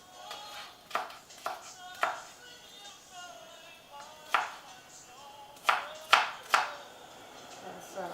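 A knife cuts a bell pepper and onion into long strips on a cutting board, giving a series of irregular sharp taps and chops, some closely spaced, with faint background noise between them.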